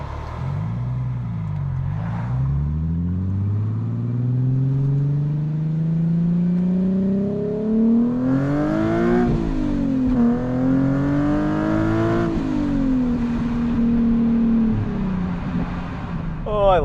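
A Nissan 370Z's V6 engine revs up repeatedly, its pitch climbing and falling in long sweeps, loud and close throughout.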